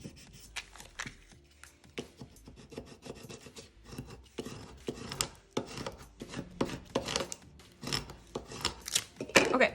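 Smart vinyl for a Cricut Joy decal is pressed and rubbed firmly onto transfer tape, making close, repeated rasping scrapes in uneven strokes that grow a little louder toward the end.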